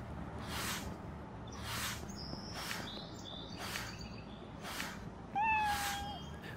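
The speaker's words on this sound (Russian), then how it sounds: "Здесь очень громко мяукают кошки" Cats meow loudly in Internet Cafe Simulator 2, about six repeated cries at a steady, roughly evenly spaced rhythm over a constant background hum, with a sharper, closer meow near the end.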